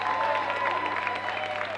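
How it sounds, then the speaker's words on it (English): Audience applause at a boys' high school basketball tournament awards ceremony, a steady wash of clapping with crowd noise throughout a brief stretch, a faint tonal hum underneath. "Big applause for him"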